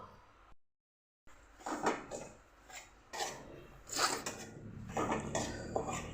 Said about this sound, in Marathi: आता आपण हे घमेलं किंवा तुम्ही कढई म्हणू शकतात, आपण गॅसवर ठेवून घेऊ